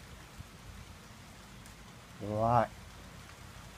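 Rain from a summer sun shower comes down as a soft, steady hiss, with a brief spoken word and a short voice-like tone partway through.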